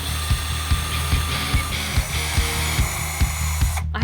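A handheld power drill whirs steadily in a craft workshop while a skateboard coffee table is assembled, with a regular clicking pulse about every half second and a sharp rattling burst at the end; no talk.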